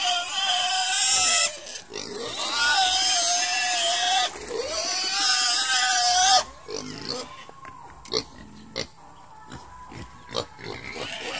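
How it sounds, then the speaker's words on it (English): Pigs grunt and squeal loudly and continuously up close on a farm during feed preparation, followed by scattered clanks and knocks. "Pig."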